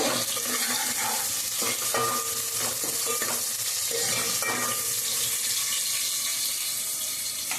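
Sliced big onions hit hot tempering oil for a dal rasam, giving a steady, loud sizzle and crackle that holds through the whole stretch, with faint clinks of stirring on top.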